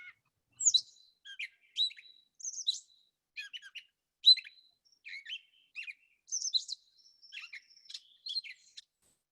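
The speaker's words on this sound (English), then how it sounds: "The first thing I think you'll hear on the sound bite is a meow-like call" Northern catbird giving a varied song of short, high, scratchy chirps and whistled phrases, delivered in quick, irregular bursts against silence, clear and fairly close.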